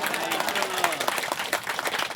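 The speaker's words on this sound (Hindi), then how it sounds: "उसके लिए एक बार तालियां सबके लिए" A crowd at a Pre-Nyokum festival celebration claps and applauds steadily, a dense patter of many hands.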